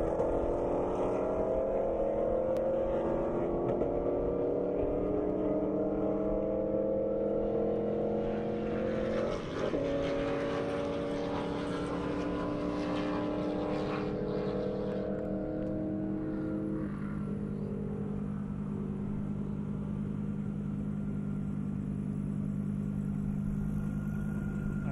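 A Hellcat races down an airstrip at a standing-mile speed event, a loud, sustained engine roar rising steadily in pitch as it accelerates, heard alone throughout.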